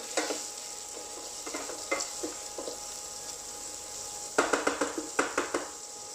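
Seafood cooks quickly in a hot pan under a steady sizzle, broken by bursts of rhythmic scraping and metallic clinks as it is stirred, the stirring growing busier toward the end.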